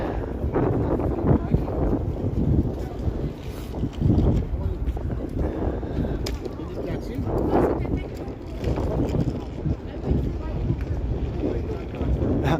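Strong freezing wind at about -20°C buffets the microphone on a Toronto city street, a loud continuous rumbling roar with gusty swells, while people talk faintly beneath it.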